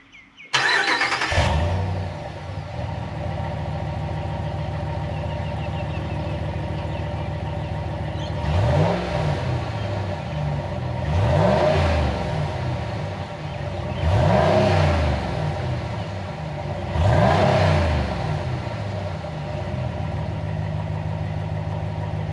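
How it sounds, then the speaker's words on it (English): A RAM 1500 pickup starts and idles through its standard factory muffler with a steady low rumble, then gets four short revs in a row, each one swelling and falling back to idle. "I'll just let you have a listen to what the standard muffler sounds like before we replace it."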